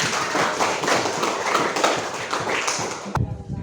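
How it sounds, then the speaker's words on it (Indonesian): Classroom applause for a student group after a presentation, a dense, steady patter of many hands clapping together that stops abruptly near the end. "Mari kita berikan aplaus."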